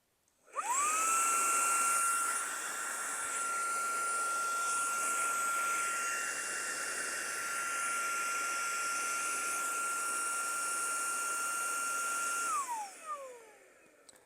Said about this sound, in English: it's a vacuum, so it's gonna need to make some noise